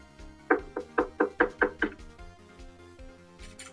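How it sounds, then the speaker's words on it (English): Knuckles rap on a door in a run of about six or seven firm, evenly spaced knocks, followed by a quiet pause. "Someone knocking at the door."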